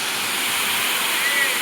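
Ozar waterfall in the Konkan region roars as a constant broadband rush of falling water, close and steady, with no other sounds standing out.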